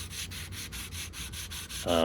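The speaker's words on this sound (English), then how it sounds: "I ended up sanding it down with 1000 wet and dry" Steady rhythmic rubbing strokes of 1000-grit wet and dry paper on rusty, pitted steel of a 1998 Specialized Rockhopper bike, about eight back-and-forth passes, close up, ending with a brief squeal.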